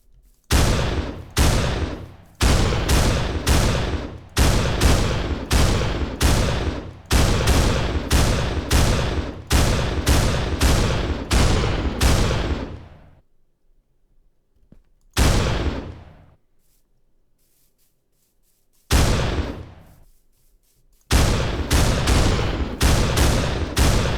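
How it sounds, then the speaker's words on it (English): An auto shotgun in a Minecraft gun mod fires in long rapid bursts of loud, evenly spaced shots, then falls silent with two short later volleys and a final burst, with no talk. "Auto shotgun noise."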